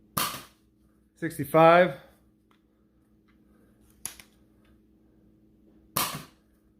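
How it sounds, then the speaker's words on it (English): An X-Shot micro blaster fires standard-length foam darts, a few separate sharp close pops spaced seconds apart, with a brief spoken word between shots. "we're shooting regular standard length darts"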